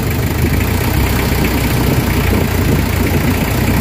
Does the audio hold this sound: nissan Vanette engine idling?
yes